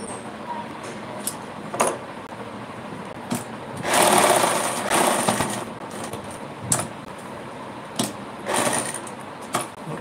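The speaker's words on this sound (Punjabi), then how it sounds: "ਆ ਜੇ ਆਪਾਂ ਇੱਥੇ ਟਾਂਕਾ ਮਾਰਾਂਗੇ, ਕਿਨਾਰੀ ਦਾ ਟਾਂਕਾ ਲੱਗੂਗਾ ਇਹਦੇ ਉੱਤੇ" A sewing machine stitches the folded edge of shirt fabric in short, intermittent bursts of rapid mechanical chatter, close by, with a longer run midway and quiet pauses between.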